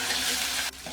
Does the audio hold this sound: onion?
yes